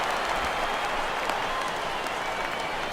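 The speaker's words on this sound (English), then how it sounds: "This crowd oohs and ahs every time this guy hits a fly ball" A stadium crowd in MLB The Show 16 swells with a broad, continuous roar and scattered clapping as a fly ball goes up, the noise dense and even throughout.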